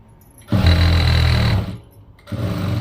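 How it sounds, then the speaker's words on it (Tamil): Electric sewing machine stitching blouse fabric, one steady whirring run of about a second, a pause, then a second burst starting up, close and loud. "துணி மேலே திரும்பக்கூடிய பகுதிக்கு மட்டும்தான் இந்த படிமான தையல் போடணும்"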